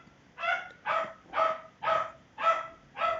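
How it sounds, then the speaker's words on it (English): A dog barks six times at a steady, even pace, each bark sharp and moderately loud, with quiet gaps between them. "Sorry for the dog."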